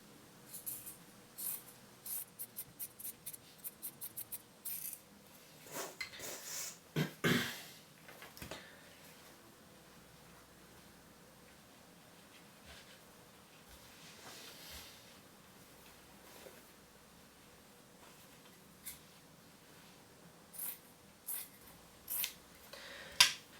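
Scissors cutting fabric for a homemade face mask: a quick series of crisp snips, a few louder cuts, then quiet handling, and a few more snips near the end, all close and soft.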